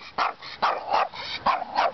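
Steady run of five or so sharp barks from a dog in a yard beside an alley, fairly close and evenly spaced.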